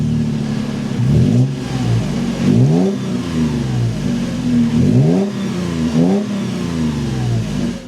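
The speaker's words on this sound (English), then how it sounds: "let's start this up and take a listen to how that V6 sounds" A close Toyota 4Runner fifth-generation V6 engine with TRD exhaust revs up repeatedly, several sharp throttle blips rising and falling over a steady idle, loud and throaty.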